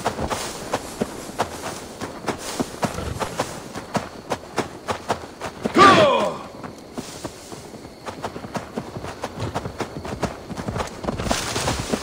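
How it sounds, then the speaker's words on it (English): Horse hooves clip-clop at a walking pace in Assassin's Creed Valhalla, a steady run of soft repeated hoof falls, close and moderate in level, with a brief louder burst of another game sound partway through. "Now to deliver Magni his horse."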